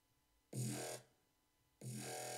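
Two heavy Skrillex-style dubstep drop growl synth hits, each a thick, harmonically dense burst about half a second long or more, separated by a short gap, loud and alone with no talking.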